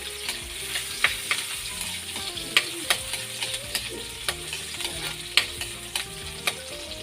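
Onion and garlic sautéed in a pan give a gentle, continuous sizzle, broken by regular light clinks and scrapes of a stirring utensil. Close but moderately quiet, with no talking.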